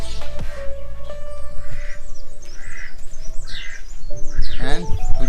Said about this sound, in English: You have some birds here on the left side.